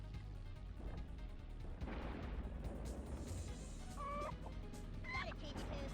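Chickens cluck in the PS1 racing game South Park Rally, a few short chirpy clucks near the end, set against a dense, steady wash of game engine noise and music.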